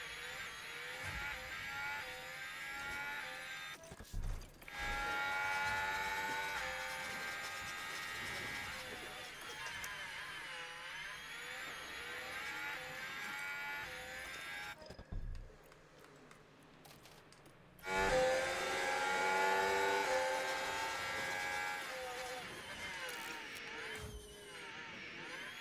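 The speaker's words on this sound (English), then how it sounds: "You can hear the engine blipping" Formula 1 engines in the F1 23 Manager game at the Las Vegas Grand Prix, a high, whining drone with rising and falling pitch sweeps as the throttle blips, sustained with short gaps and faint commentary underneath.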